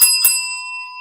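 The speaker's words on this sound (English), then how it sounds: "Let's ring some bells for Nico." A bright bell is struck twice in quick succession, then rings on in a clear, sustained tone that slowly fades. It is loud and close, with no talking.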